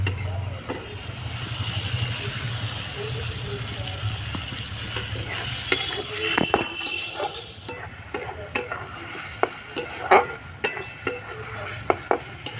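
Green chili and ginger-garlic paste sizzle in a pan for a taro-and-egg curry. Close, steady frying runs under repeated stirring scrapes and light clinks, which grow busier toward the end.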